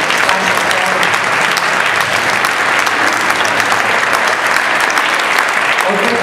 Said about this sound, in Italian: Fare subito un applauso ai due maestri.